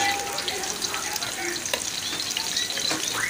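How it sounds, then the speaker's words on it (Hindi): Onion and green chili fry in ghee as garlic goes in, giving a continuous close sizzle with stirring scrapes throughout the short stretch, with no talk. "ये घी में मैंने प्याज और हरी मिर्च डाल दी है। अब मैं इसमें लहसुन डालूँगी।"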